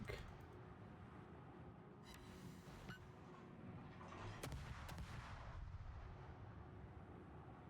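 Naval guns fire a broadside in a warship video game, heavy booming blasts rolling over a dense, constant low rumble of battle noise, several sharp reports standing out.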